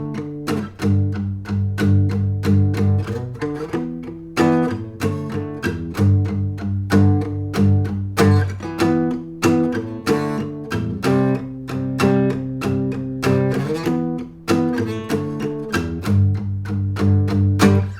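Electric guitar playing the verse of a song with two-note power chords, steady strummed chord changes ringing out loud and alone for the whole stretch.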